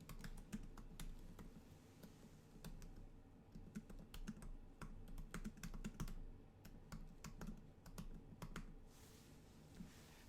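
Someone types a line of text on a computer keyboard while laying out a magazine cover in InDesign, giving a steady stream of soft, irregular key clicks over quiet room noise.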